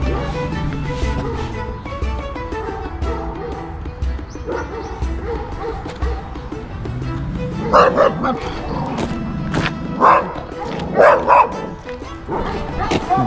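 A dog barks and yips in a village garden beside an open gate. Loud, near, repeated barks and whimpers mostly come in the second half, over a busy outdoor background, while someone talks.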